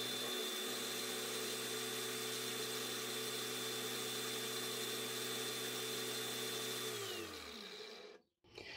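Dewalt DCG 405N 18V XR cordless angle grinder running with no load, a steady high-pitched whine held for several seconds, then winding down in pitch as it stops, up close and loud.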